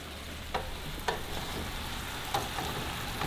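Tofu stirring and frying in teriyaki sauce with ginger and garlic, a steady close sizzle broken by a few soft scrapes of stirring, with no talking.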